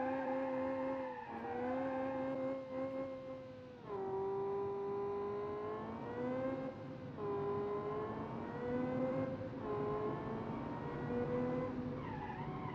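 A car engine in a video game drives and revs through rising and falling gear changes, a harmonic whine climbing repeatedly then dropping, steady and prominent across the whole stretch.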